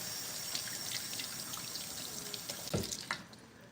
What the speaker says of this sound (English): I'm gonna rinse this one.